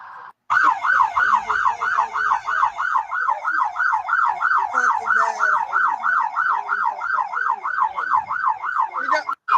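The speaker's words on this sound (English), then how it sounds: "they just pulled up and just turned on the siren" A police siren wails close by in a steady, fast-cycling up-and-down pattern, loud and continuous for the whole stretch, sounding just after the vehicle pulls up, over faint street noise.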